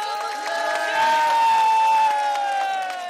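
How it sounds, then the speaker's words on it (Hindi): Crowd at a political rally in Kashmir cheering and clapping, a loud sustained wash of voices and applause that swells midway and holds, with shouts rising above it. "आओ भाई, इसको एक दफा इसके लिए ताली बजा दो।"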